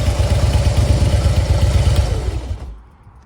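A Harley-Davidson Fat Boy motorcycle idles up close with a loud, lumpy, pulsing rumble, then the engine is switched off and the throb winds down and fades to near silence within a second.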